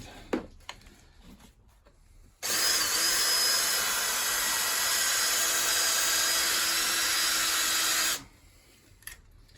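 A loud, steady whine of a power drill runs continuously for several seconds, boring out a metal cap on a car's McPherson strut, with a few faint clicks before and after.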